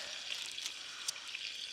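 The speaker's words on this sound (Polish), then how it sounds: "dźwięk skwierczącej cebulki" Onion frying in lard in a pan, a steady close sizzle with fine crackling pops throughout and no voices.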